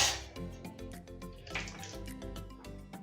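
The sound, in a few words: water being poured into a pan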